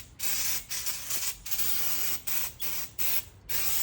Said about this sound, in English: I'm gonna hit this little bit of brake cleaner.